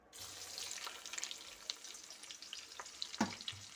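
Onions go into a pan of frying pilaf with duck, giving a soft continuous sizzle with a few clicks and clatters of stirring, fairly quiet and close, with no talking.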